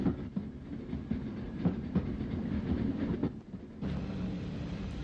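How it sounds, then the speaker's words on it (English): A train pulling into Dungannon station on an Irish line in the 1960s gives a steady low rumble with faint rhythmic clicks from the wheels, fairly quiet. A sharper shift in the noise comes near the end. "Our train arrives at Dungannon, formerly the junction for the line to Cookstown."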